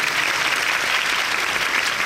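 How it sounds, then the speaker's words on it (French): A dense, continuous roar of applause from a large ceremony audience at the opening of a French film festival in Japan, greeting UniFrance officials, steady and even throughout. "Je vous prie de les applaudir."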